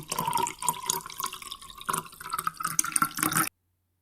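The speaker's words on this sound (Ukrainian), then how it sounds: "З допомогою лійки наливаємо невелику кількість оцтової кислоти." Acetic acid trickles and drips through a funnel into a bottle in short bursts, a gurgling, splashy pour at close range that stops abruptly.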